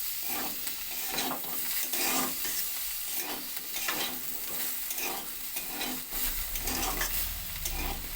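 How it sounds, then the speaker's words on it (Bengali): Tomato frying in a pan for a potato chakka curry, stirred steadily so a continuous close sizzle is broken by regular scraping strokes, with no voices. "টমেটোটা যতক্ষণ না একটু ভাজা ভাজা হচ্ছে ততক্ষণ একটু"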